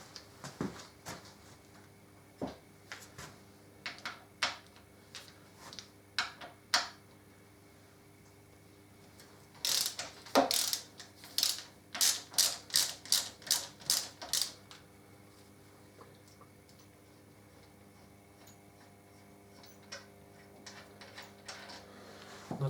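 A ratchet wrench loosening bolts on a Harley Davidson Deuce trike during a conversion, scattered clicks early on, then a loud burst of rapid, evenly spaced ratcheting clicks midway, close and alone in a quiet workshop.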